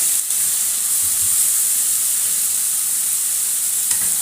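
Liver sizzling and frying in a pan while being stirred, a steady close hiss with faint scraping and no voices.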